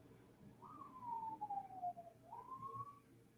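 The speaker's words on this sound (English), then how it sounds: "where's that siren coming from?" A distant siren wails, a single tone sliding down then rising again, faint over a quiet background.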